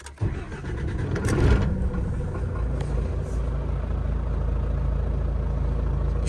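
A truck engine fitted with new fuel injectors cranks and catches, revs briefly, then settles into a steady, close, rumbling idle.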